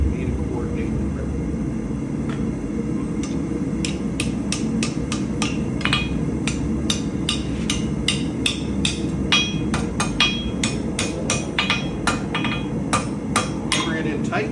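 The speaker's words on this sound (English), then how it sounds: "I'm also going to put a couple of half-phase hammer blows into the surface over a sharp edge of my anvil" Blacksmith's hammer striking hot round bar over the sharp edge of an anvil, a quick run of sharp metallic blows getting denser toward the end, heard over a steady low roar with a voice talking at times.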